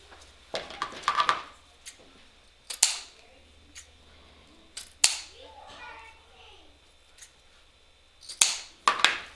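Scissors snip the ribbon tails of a pink Valentine wreath bow: a handful of sharp, close cuts come in separate bursts with quiet pauses between them.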